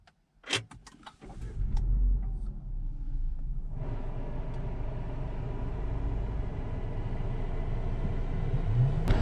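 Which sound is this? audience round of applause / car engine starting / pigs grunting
car engine starting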